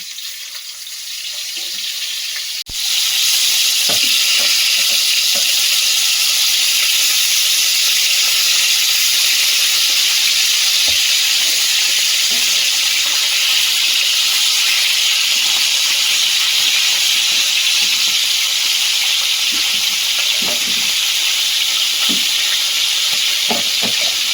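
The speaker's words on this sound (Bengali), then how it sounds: "ফ্রাই প্যানে তেল দিয়ে দিচ্ছি মাছগুলো ভেজে নেব" Fish hits hot oil in a frying pan and a loud, sudden hiss erupts after a quieter moment, then holds as a dense, continuous sizzle close by with small crackles throughout.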